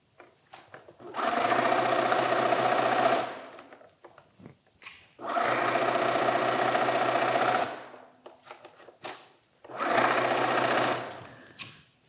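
A sewing machine stitches a quarter-inch seam on a pieced heart quilt block in three steady, loud bursts of a few seconds each, with quiet gaps of fabric handling between runs.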